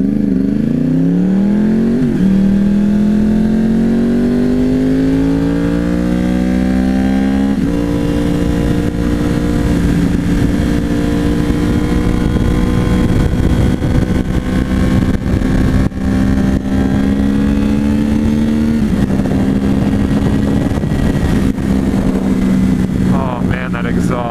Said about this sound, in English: Exhaust. Oh, it's so nice. Oh, listen to it. So sweet.